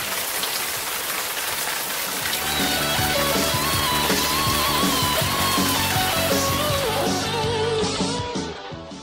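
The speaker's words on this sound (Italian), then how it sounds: "Siamo arrivati a Caracas, Venezuela, e qui piove." Steady rain in Caracas, Venezuela, on an overcast evening: a dense, continuous patter with no pauses, constant in level throughout and with a faint tonal background.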